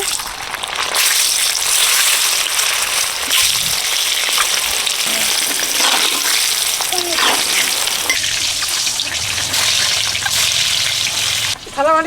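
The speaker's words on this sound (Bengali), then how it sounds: "ডিম ভাজবো হলুদ দিয়ে দিচ্ছি তেলে লবণ ডিম ছেড়ে দিচ্ছি" Eggs fry in hot oil with turmeric and salt, giving a loud, continuous crackling sizzle close up that holds steady throughout, with a few faint clinks and a brief lull near the end.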